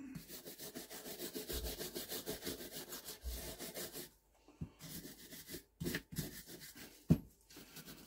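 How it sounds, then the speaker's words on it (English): A small brass brush scrubs the body of a carburettor from a 1960s two-stroke generator, giving close, quiet, rhythmic scratching strokes that break off into scattered short scrapes and taps near the end. "So a little brass brush in here will do the world of good"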